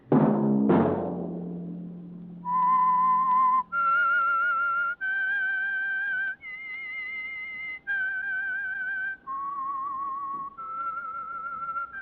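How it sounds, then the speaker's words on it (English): A solo whistled tune plays as a radio show signal, with sustained clear notes in a slow melodic line. It is preceded by two sharp struck musical tones that ring and decay. "Let that whistle be your signal for the Signal Oil program, The Whistler"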